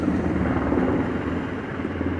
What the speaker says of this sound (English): Damn, 2 more helicopters is coming. These shits is Army helicopters, real talk.